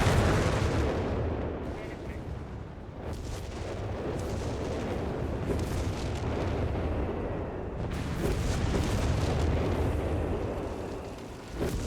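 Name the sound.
artillery bombardment in Company of Heroes 3 video game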